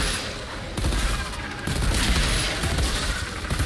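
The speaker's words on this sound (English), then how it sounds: "it's like a burst fire" Burst-fire gunfire in the Outriders video game, with rapid volleys of shots and explosive crashes running steadily through the moment and no talking over it.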